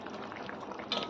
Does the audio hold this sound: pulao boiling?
yes